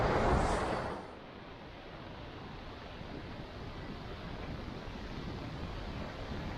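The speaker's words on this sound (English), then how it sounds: "The current in here that goes over the rocks is absolutely amazing" Tidal current rushing over rocks at Woolacombe beach in North Devon, a steady broadband wash of moving water with wind buffeting the microphone, louder gust at the start, then continuous and even, no talking.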